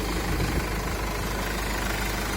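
A 2018 Mercedes Sprinter 316 engine idles steadily, a close, even rumbling hum with a faint mechanical clatter and no break over the short stretch.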